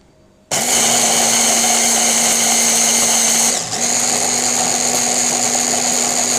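An electric mixer grinds whole spices into powder, starting abruptly and whirring at a loud, steady high pitch, with a brief dip partway before the motor runs on.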